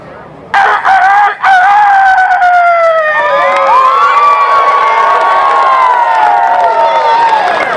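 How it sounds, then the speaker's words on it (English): Dozens of caged roosters crowing at an annual rooster crow contest in a packed arena, long overlapping crows rising and falling loudly while a crowd cheers and shouts around them. "John Bond presiding as Master of Ceremonies, the arena was packed with 47 highly competitive roosters in their cages"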